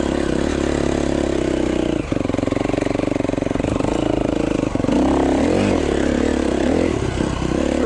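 A 2011 KTM 350 XC-F dirt bike on a muddy Utah trail buzzes loud and close, its engine note rising and falling with throttle blips and revs as it rides along.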